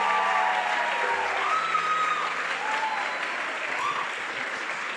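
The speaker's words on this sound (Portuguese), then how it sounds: "aplaude mais uma vez em nome de Jesus." Congregation applauding at a Catholic preaching service, a steady dense wash of clapping across the whole stretch, with faint tonal sounds and some voices mixed in beneath.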